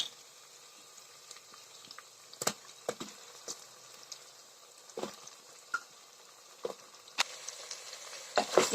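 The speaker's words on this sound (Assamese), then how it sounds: "এতিয়া মই ইয়াতে কঁঠালখিনি দি দিম দি পেলাই অলপ দেৰি কঁঠালখিনি ভাজিম" Steady sizzling of jackfruit frying in hot oil, with scattered sharp pops and crackles throughout, close up and fairly loud.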